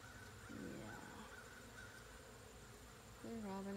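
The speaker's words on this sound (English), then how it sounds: "bees are going crazy" Honey bees robbing and fighting around an open feeder make a faint, continuous buzzing hum outdoors, with a brief louder tonal call near the end.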